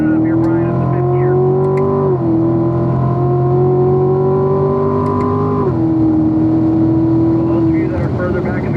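A car pulls hard in fifth gear on a track, its engine droning loud and close with a rising whine that steps down at each shift, while someone talks over the noise.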